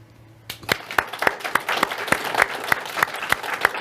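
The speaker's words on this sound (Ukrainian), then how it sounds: "Але я хочу від нас всіх передати ці оплески." Rhythmic unison clapping from a gathered audience at a Ukrainian military unit thanks event, a steady beat of about three claps per second, close and clear.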